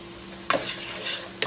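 A spoon stirs a Cajun pasta base in a hot pan over medium heat, with two quick scraping strokes over a gentle, continuous sizzle, heard close up.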